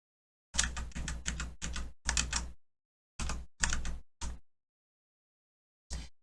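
Bursts of computer keyboard typing in a quiet room: clustered rapid clicks in several short runs separated by silent gaps, with one isolated final press after a long pause.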